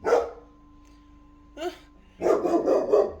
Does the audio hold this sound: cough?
no